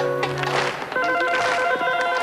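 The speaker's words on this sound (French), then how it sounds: "Et le téléphone sonne" A television game show's studio telephone rings with steady electronic bell tones, clear and fairly loud, alongside background studio ambience and no talk.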